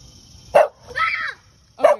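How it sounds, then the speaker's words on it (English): A dog on a morning street walk gives two sharp, loud barks close by, with a short whining yelp between them, and no talk. "No, Sandy, don't bark at him."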